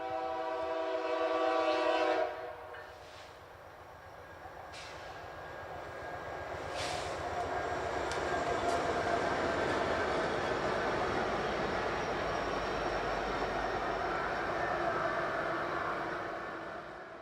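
A CPKC freight train rolls past with a KCS Tier 4 GEVO locomotive in the consist. A loud horn blast opens, then the deep engine roar gives way to a long, steady rumble and clatter of passing railcars, with brief squeals on top.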